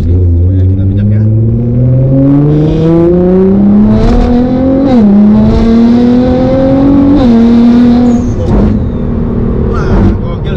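A Nissan GT-R R35 with all-wheel drive on Michelin Pilot 4S tyres drives and corners around BSD, its engine droning loud and close, climbing steadily in pitch with brief dips as it shifts, under continuous cabin noise.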